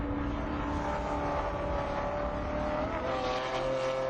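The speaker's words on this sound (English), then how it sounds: "2 very different cars there running for position in ST3" Super Touring 3 race cars running for position on a track, their engines a steady, loud droning roar with a rising, shifting pitch as the cars battle wheel to wheel.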